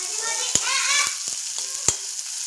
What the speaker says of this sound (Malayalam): പിന്നെ കുറച്ച് സവോള ആഡ് ചെയ്യുന്നുണ്ട്, അതൊന്ന് വേഗം മൂത്തിടാൻ കുറച്ച് ഉപ്പ് ആഡ് ചെയ്തിട്ട് നന്നായി മിക്സ് ചെയ്യുന്നുണ്ട് കേട്ടോ